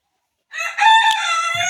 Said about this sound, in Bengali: এই যে মাশাআল্লাহ আমার মুরগিগুলা